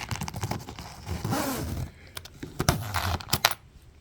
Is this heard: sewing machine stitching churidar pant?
no